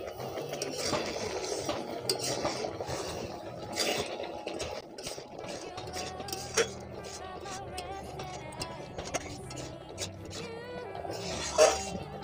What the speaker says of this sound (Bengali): চিনি দিয়ে একটু ঘন ঘন নাড়তে হবে